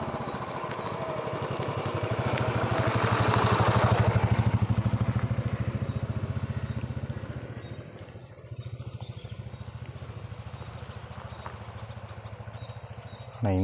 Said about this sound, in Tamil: என்ஃபீல்டு ஒன்று வருது.